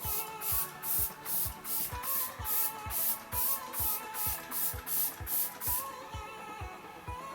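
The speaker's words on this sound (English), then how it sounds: "Once you spray it on your face" Repeated short bursts of makeup setting spray misted onto a face, hissing in a steady rhythm, about a dozen quick pumps close by, over a faint backdrop.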